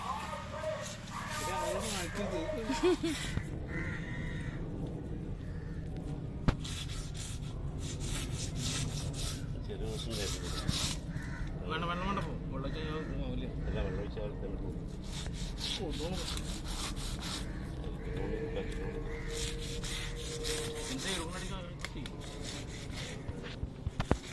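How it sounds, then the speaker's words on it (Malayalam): Steady, rhythmic rubbing and grinding against a washing stone continues for the whole stretch, with voices talking over it at close range. "അലക്കുകല്ലും വെച്ച് അരക്കുക."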